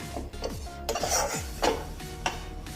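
Spices being stirred and fried in a cooking pan for an egg curry, a spatula scraping and rubbing across the pan in repeated, rhythmic strokes, close and clear with no talk.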